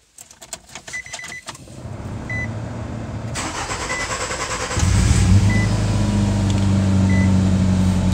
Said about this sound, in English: that was a little bit of an extended crank, but that was the very first startup